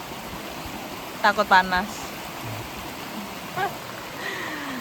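Water from a waterfall in a cave rushes steadily as a broad, continuous roar, close and loud, with people talking briefly over it.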